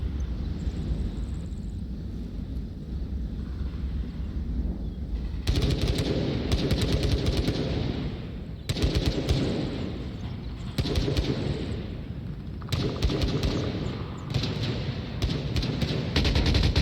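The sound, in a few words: machine gun fire in a video game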